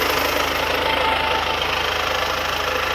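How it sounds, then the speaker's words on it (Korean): A fourth-generation Kia Carnival minivan engine idles steadily with an even low rumble and faint rhythmic knocking, close and continuous, no voices. "지금 차량 엔진 소리도 너무나도 좋고요"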